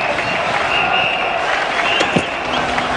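Appreciative crowd applauding at a Sydney cricket ground during a 1993-94 Australia v South Africa one-day match, a steady broad wash of clapping from the stands heard at moderate distance.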